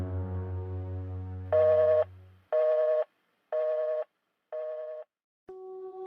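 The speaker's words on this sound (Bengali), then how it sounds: "আমি ওনাকে ফোন করে ডাকতেছি।" A phone call being placed, with a steady low tone giving way to a series of evenly spaced ringback beeps, clear and close, followed by a final higher tone, with no voices.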